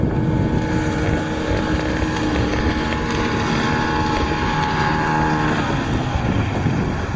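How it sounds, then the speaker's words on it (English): A motorboat passes on open water along the Dominican Republic coast, its engine a steady continuous drone throughout, moderately loud with wind buffeting the microphone and no talk. "Here comes another boat"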